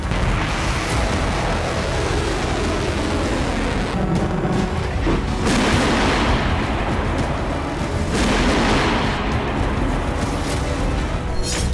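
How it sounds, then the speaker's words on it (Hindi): Loud, continuous rumbling with repeated heavy bursts and crackling booms of explosions and air defense fire echoing across Kyiv during a Russian missile attack, no voices. "कीव में एयर डिफेंस सुबह से ही एक्टिव है और कई धमाके अब तक सुने जा चुके हैं।"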